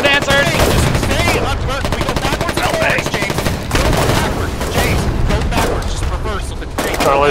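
Loud gunfire in the war game Foxhole during a beach landing at Victa: dense, rapid bursts of shots and booms packed back to back, with excited players talking over the battle.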